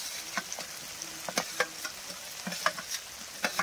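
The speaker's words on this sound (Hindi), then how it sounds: "तो देखिए अब टमाटर डाल रहे हैं" Tomatoes hit frying masala for a fish curry, giving a close, steady sizzle broken by repeated clacks and scrapes of stirring, with no voices.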